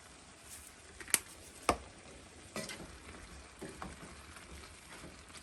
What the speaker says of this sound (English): You just stir that good.